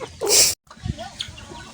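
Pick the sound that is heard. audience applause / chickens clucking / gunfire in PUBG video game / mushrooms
chickens clucking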